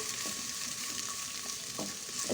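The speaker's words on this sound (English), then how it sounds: "Now add 1 medium sized onion and fry it till it turns golden brown" An onion fries in hot oil in a pan, giving a steady close sizzle. Soft stirring scrapes run through the sizzle.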